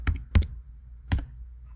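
Keys are struck on a computer keyboard while a command is entered: three crisp, close clacks, two in quick succession and a third after a short pause.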